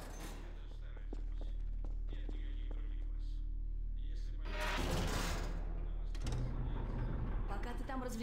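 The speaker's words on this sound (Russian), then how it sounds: "И снова лифт." An elevator running in Half-Life 2: Episode Two, a steady low mechanical hum with clanks and a swelling rumble midway, while a voice talks softly over it.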